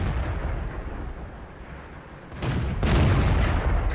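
Main gun of a Pz.Kpfw. IV Ausf. H tank firing in a video game: a loud, deep boom erupts partway through over a steady rumbling engine background, with its blast and reverberation rolling on to the end.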